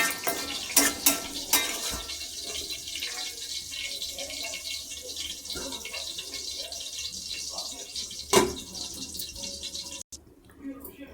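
Potato gravy being stirred in a pan, a few sharp spoon clinks clustered early and one near the end over a steady hiss, with faint voices in the background.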